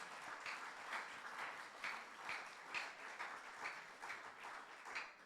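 Faint applause from a congregation at a church youth service, a steady patter of clapping with slight rhythmic swells, heard from a distance at low level.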